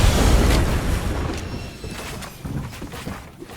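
Rockets in Fortnite burst in a loud, deep boom that opens the moment and rumbles away, followed by fainter thuds and scattered debris noise.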